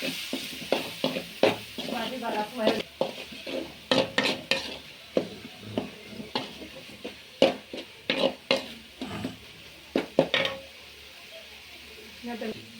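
Masala for goat intestine curry is stirred and sautéed in a pan, a quiet sizzle punctuated by frequent sharp spatula clicks and scrapes against the metal in an irregular rhythm.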